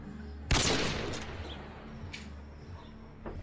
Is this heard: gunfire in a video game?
yes